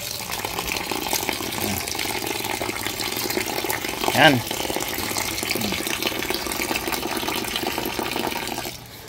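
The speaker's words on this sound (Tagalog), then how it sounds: "Hugasan natin ang ating ampalaya." Mineral water runs steadily over wild bitter gourd leaves as they are washed, a continuous close splashing flow with a brief louder splash midway, while a person speaks briefly over it.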